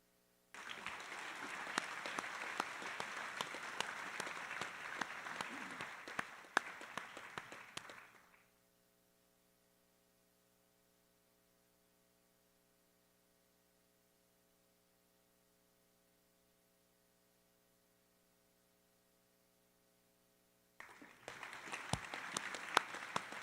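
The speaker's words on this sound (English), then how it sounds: "So one more round of applause for all of our AP Scholars." Applause for AP Scholars fills a senior honors assembly, steady clapping for about eight seconds, then silence with a faint mains hum, and the clapping resumes near the end.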